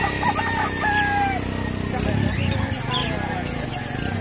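A rooster crows and chickens cluck nearby over a noisy background of people talking and general bustle.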